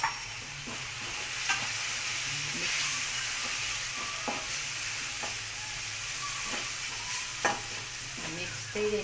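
Spices frying in a pan with a steady sizzle while a spoon scrapes and stirs in periodic knocks, close up and unbroken by speech.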